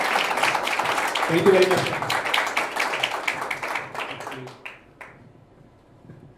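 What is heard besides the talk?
audience applause welcoming guest Hemang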